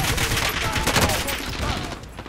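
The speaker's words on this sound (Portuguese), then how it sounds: "Tem dois tiros. Tem tiro de alguém?" Gunfire in the video game Call of Duty: Modern Warfare (2019) Warzone, a burst of rapid, overlapping shots with loud crackling reports packed into a couple of seconds.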